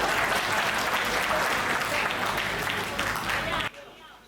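An audience at a Hindi poetry recital claps loudly in a dense, sustained burst that fades slightly before cutting off abruptly near the end.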